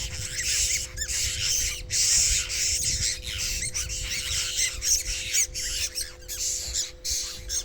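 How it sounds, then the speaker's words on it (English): Apostle birds near a rocky outcrop in Warren Gorge squawk close by and loud, with repeated harsh calls in an uneven, continuous chatter and no talking. "So I believe these are what's called apostle birds."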